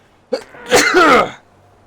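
A single wet, forceful sneeze, short intake then a loud burst with a voiced tail, close to the microphone and otherwise quiet.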